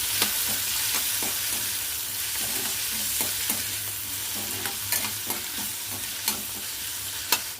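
Chopped tomatoes are stirred into a sizzling tempering with peas in a pan. A constant frying hiss runs under irregular clicks and scrapes of the stirring spoon, close up, with no speech.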